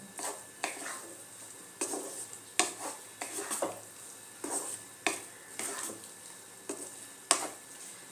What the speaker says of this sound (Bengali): মশলাটার সাথে ডালটা মিলিয়ে নেব।